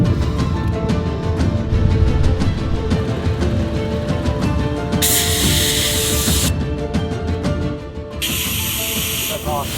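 A portable air compressor inflating a tire on a Colorado four-wheel-drive trip, with a loud hiss starting abruptly partway through and cutting out, then returning, over a running mechanical drone.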